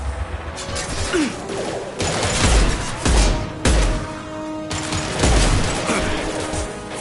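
Heavy gunfire in Mass Effect 2 on Omega, a dense, rumbling fusillade of shots and impacts that swells and fades over several seconds, loud and continuous.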